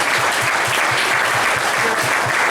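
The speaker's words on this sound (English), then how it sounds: "So give them all a big round of applause too." A loud, full round of audience applause at the Merry Ploughboy Irish music show, sustained and even throughout, with many hands clapping close together.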